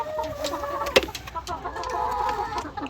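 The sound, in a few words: gray hens clucking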